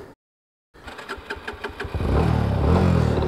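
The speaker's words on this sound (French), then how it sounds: "Et calme ma moto." A motorcycle engine is started at high altitude, stumbling through a few uneven cranks and pops before catching and settling into a loud, steady rumble close by.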